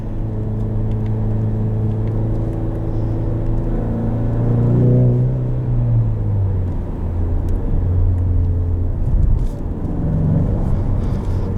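A 2020 Ford Mustang EcoBoost High Performance automatic, engine and exhaust running in quiet mode, gives a steady close rumble that swells into a rev near the middle, then settles back to a droning idle.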